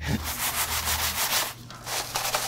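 Crisp, crackly rustling and scraping as brittle fried eggplant slices fresh from the oven are handled, a close, dry crunch in short bursts.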